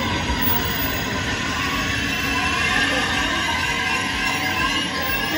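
Interior rumble of a new-looking Circumvesuviana commuter train in southern Italy, a steady loud rolling roar with faint high squeal throughout, close and continuous, with no talking over it.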